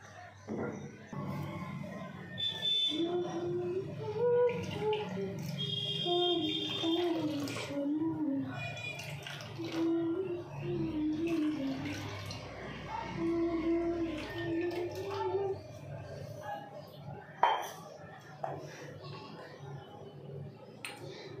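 Ganga water poured for a puja offering at a home shrine, a soft steady trickle and splash running underneath someone talking close by throughout.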